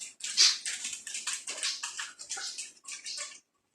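Liquid vitamin is poured into drinking water for grower-stage pigs on a farm, giving a close, continuous splashing gush in uneven bursts for about three seconds before it stops abruptly.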